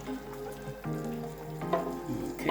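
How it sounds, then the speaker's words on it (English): Fish frying in a pan as a blended mix of tomatoes and raw bell peppers is poured over it, steady close sizzling with soft splashes and stirring clatter. "Now I go ahead and pour the blend of tomatoes and raw bell peppers over my beautifully sizzling fish."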